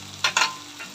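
Spinach sizzles in a hot pan for an Assamese fish curry, a short burst of frying crackle with two quick stir-like surges, close and moderately loud, no talking.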